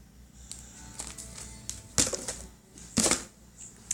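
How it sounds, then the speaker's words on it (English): Tape being put on a squishy toy: crinkly tearing and sticking noises with several sharper rips, close and fairly faint, alone. "I gotta put the tape on it."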